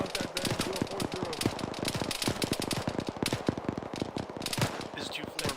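Gunfire during a military field training exercise: rapid, continuous bursts of automatic fire and overlapping single shots, fairly close, with voices talking underneath.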